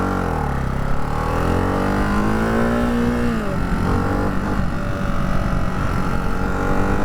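A motorcycle engine held in first gear revs loudly and continuously up close, its pitch climbing steadily, then dropping and turning rough and choppy.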